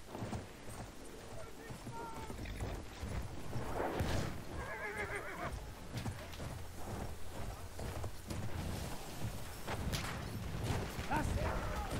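In the Battlefield 1 video game, a horse whinnies amid clip-clopping hooves during a desert match, fairly quiet overall, with a player's voice speaking over the action.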